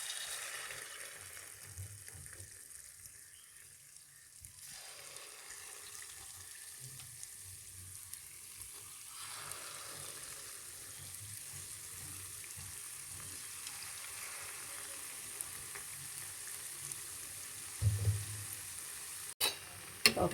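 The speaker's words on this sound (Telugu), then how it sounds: "ఇలాగే అన్నీ ఫ్రై చేసుకుందాము" Bondas made from dosa batter deep frying in hot oil, a steady close bubbling sizzle that runs throughout, with a few clinks of a utensil near the end and no talk.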